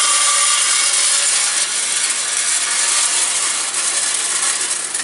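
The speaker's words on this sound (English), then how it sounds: "Just dump it in slow at first until it starts filling the hopper." Pine animal-bedding pellets pour into a pellet stove hopper, a loud, close, continuous rushing rattle of many small pellets sliding and clattering without pause.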